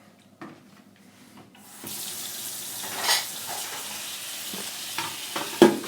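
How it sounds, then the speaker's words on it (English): A kitchen tap runs into a sink being filled with soapy water for soaking old Amiga 500 computer parts, starting faintly then settling into a steady gush with a few clinks and splashes near the end. "and soak them in some soapy water"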